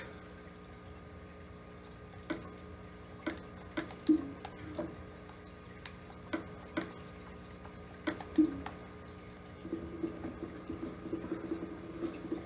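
Water drips and trickles in Minecraft, irregular soft plops spaced a second or two apart over a low steady ambient drone, growing into quicker bubbling toward the end.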